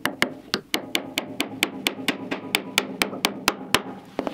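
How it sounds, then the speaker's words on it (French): A hammer taps the point of a nail on wood to blunt it, about twenty crisp close strikes at a quick, even pace, with no talking. "venir prendre le clou et de taper sur sa pointe"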